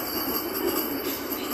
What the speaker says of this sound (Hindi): Fast air condition local AC train waste Bengal में।